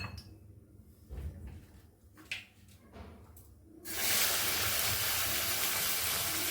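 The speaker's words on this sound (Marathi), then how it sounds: "मसाला भाजायला थोडंसं तेल घ्यायचंय" Masala spices hit hot oil in a pan while cooking a spicy pumpkin dish. A few quiet handling clicks come first, then a loud, steady sizzle bursts in and continues to the end.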